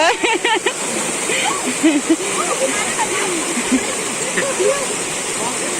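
A forest waterfall after rain roars in a loud, constant broadband rush of falling and splashing water, with people's voices talking and calling over it.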